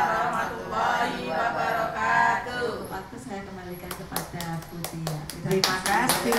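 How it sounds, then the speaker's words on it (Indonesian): A group of friends claps along at a gathering, a scattered, uneven patter of hands that grows into sharper, louder claps toward the end, with voices talking underneath. "Tepuk tangan teman-teman"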